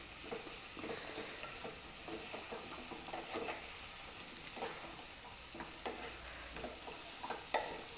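Fish being stirred in a hot pan of oil while making fish pickle, giving a steady close sizzle broken by repeated scraping and clacking strokes of the spoon throughout.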